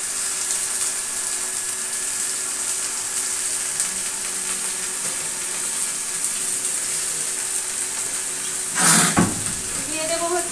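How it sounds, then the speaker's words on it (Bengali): Bottle gourd stems and vegetables fry in a pan with a steady, close sizzle throughout, broken near the end by a brief louder clatter or stir. "সেই লাউ ডাঁটাটা আজকে রান্না হচ্ছে"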